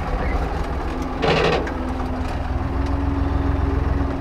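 An Ursus 3502 tractor engine idles steadily nearby in a field during mowing work, a low continuous rumble with a brief louder burst partway through.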